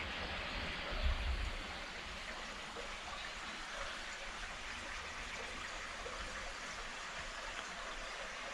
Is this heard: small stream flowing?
yes